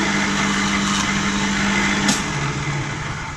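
A drill whines steadily at a constant pitch, then the tone drops and eases as it cuts through, close and fairly loud.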